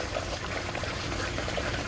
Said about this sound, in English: see the siphon is resetting right now? Hear it like gurgling?